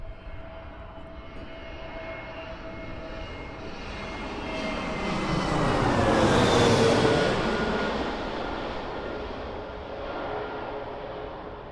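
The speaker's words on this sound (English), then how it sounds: "we've got that EasyJet on approach, which is in from Amsterdam" An EasyJet airliner on approach to Birmingham Airport rumbles in from a distance, its engine roar swelling to a loud broadband peak overhead before fading away, with no talk.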